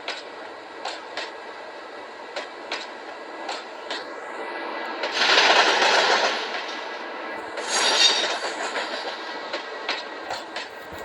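A Z20900 Transilien electric train runs in the Trainz railway simulator game, giving a steady low rumble with regular wheel clicks over rail joints and two louder swelling rushes in the middle, with no voices.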